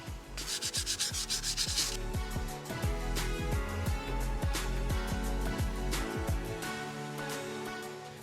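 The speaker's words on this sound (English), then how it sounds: "Just going to use a little 400 grit." Close-up rhythmic rubbing as 400 grit sandpaper is worked back and forth over a painted, weathered lightsaber hilt, with steady repeated strokes and no talking.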